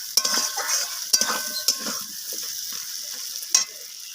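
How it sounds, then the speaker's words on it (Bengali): Vegetables with garlic paste and spices sauté in a pan for a pumpkin-and-eggplant rohu fish curry, a steady close sizzle broken by several sharp scrapes and clinks of the stirring spoon. "রসুনটাকে দিয়ে সব কিছু মশলার সাথে আর সবজিগুলোর সাথে এইভাবে নাড়াচাড়া করে কষিয়ে নিচ্ছি"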